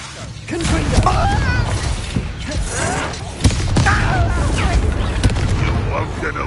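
Confringo blasting spell in Hogwarts Legacy: loud magical bursts and booming impacts amid combat effects, with a voice speaking over the fight.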